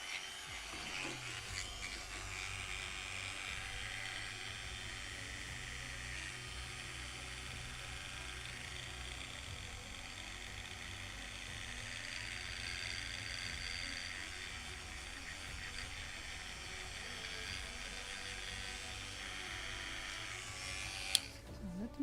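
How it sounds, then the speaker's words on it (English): A small drill bores a hole in a part of a Model Shipways kit of the 1776 gunboat Philadelphia, a steady close whirring grind that runs unbroken for over twenty seconds and ends with a faint click. "This is how I should drill it also."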